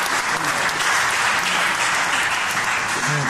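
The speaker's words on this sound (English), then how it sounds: "I hope some of you will have had this experience so you can let me know by applause." Audience applause fills a concert hall, a dense, steady wash of many hands clapping at once that stays loud and even throughout, with a faint voice underneath near the end.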